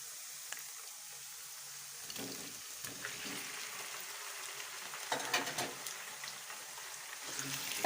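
Chicken lands on browned onions in a hot pan for matar gosht, setting off a loud, close sizzle with stirring scrapes that swell toward the end.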